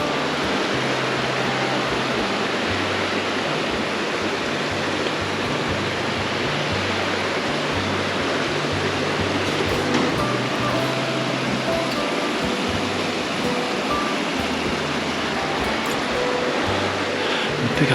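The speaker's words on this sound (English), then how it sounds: "Just that lovely noise of water." River water by a big old steel bridge rushes and flows in a steady, broadband roar that stays even and close throughout, with no voices over it.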